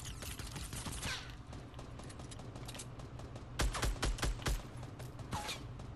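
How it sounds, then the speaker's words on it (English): Gunfire in Fortnite Battle Royale with silenced pistols in use: scattered quiet cracks, then a tight cluster of louder shots near the end over low game ambience. "You're getting shot from somewhere else."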